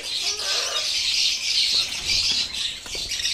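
Several caged lovebirds chirp and squawk continuously in a busy, close chorus, with occasional rustling of wings.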